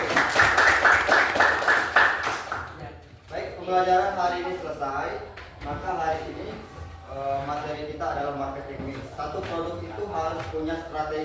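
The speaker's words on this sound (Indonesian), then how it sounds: "tepuk tangan dulu ya" A class claps together in a brief burst of applause, then a voice starts talking over a quieter room.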